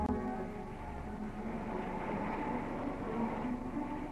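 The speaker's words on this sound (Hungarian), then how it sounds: "Miután a váltón a villamos összes kerékpárja áthaladt" A tram rolls over a track switch, a steady rumbling rail noise with a continuous low drone and faint clatter, close and unbroken throughout.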